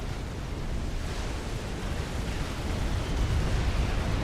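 A submarine explodes in Supreme Commander: Forged Alliance with a dense, sustained rumbling roar of broadband noise that swells slightly toward the end.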